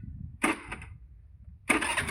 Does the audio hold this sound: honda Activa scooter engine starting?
yes